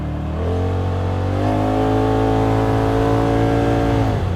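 A Polaris RZR Pro XP side-by-side fitted with an MBRP sport exhaust accelerates, its engine note climbing steadily from about 1.5 seconds and holding a loud, rising drone close by until the end, with no talk.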